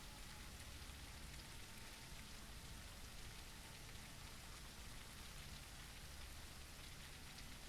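Steady, dense rain pours down without pause in the zombie survival game SurrounDead, a continuous even hiss close around the listener with no voices.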